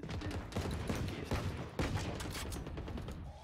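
A round of Valorant, the video game, with bursts of rapid gunfire: a quick string of sharp shots of moderate loudness and a brief mechanical clatter near the end.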